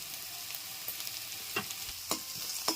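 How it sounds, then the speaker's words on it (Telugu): Onions, garlic and curry leaves fry in oil with turmeric, a soft, continuous sizzle broken by a few sharp stirring scrapes near the end, heard alone without talk. "పసుపు వేసుకొని వేపుకుందాము"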